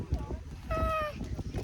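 A toy cat gives out a single short, tonal meow in the middle, set among a child's babble and adults talking around a first birthday gathering.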